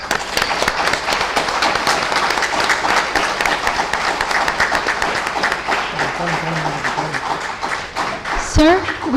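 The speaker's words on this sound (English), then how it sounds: "I request everyone to give a huge round of applause" A large audience at a law school valedictory ceremony for a national moot court competition at Banaras Hindu University applauds, with dense, steady clapping that fills the whole stretch at full strength before easing slightly at the end.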